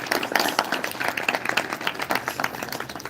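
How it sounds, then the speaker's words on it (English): Students clap together at a Republic Day celebration, giving a steady round of applause that carries on for about three seconds, moderately loud and without a break. "There must be big round of applause, students."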